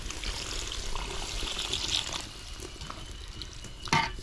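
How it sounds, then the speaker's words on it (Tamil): Water poured into a pan of frying masala curry, a steady close trickle and sizzle throughout, with a brief sharp clatter near the end. "இப்போ வந்து நம்ம தண்ணி சேர்த்துக்கலாம்."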